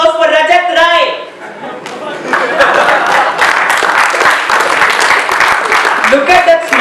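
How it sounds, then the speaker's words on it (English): Audience at a university comedy roast bursts into applause and crowd noise after a voice speaks at the start, loud and close, with mixed clapping and chatter continuing throughout. "A huge round of mellow applause for Rajat Rai."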